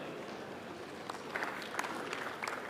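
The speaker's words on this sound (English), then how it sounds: "Yes, a round of applause" Audience at a national conversation launch event on Kenya's future breaking into applause, a soft, distant wash of clapping with scattered louder claps.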